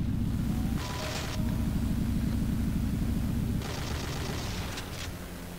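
Steady gunfire aimed at the player in the video game Skulltag, a continuous rumbling barrage with two brighter bursts of shots layered on top, loud and close with no talk.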